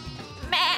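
A single wavering sheep bleat from Star Stable Online, short and clear, rising above faint low background sound.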